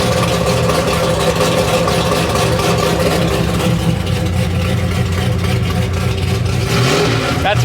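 Small block Chevrolet V8 on an engine test, roaring loud and continuous with revving surges and a rough, throbbing low rumble that holds steady throughout.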